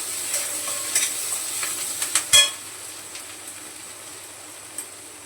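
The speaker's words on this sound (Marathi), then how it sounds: "ते टाकते थोडीशी परतून घेते कांद्याबरोबर" Coriander leaves sautéed with onions in a pan give a soft, steady sizzle, broken by a few light clinks and stirs of a spoon, with no talk.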